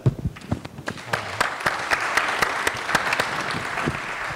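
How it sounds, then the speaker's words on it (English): Conference attendees applaud a discussion panel, beginning with a few scattered claps that swell into a full, steady round of clapping from a moderately sized room. "we have to thank and applaud this panel"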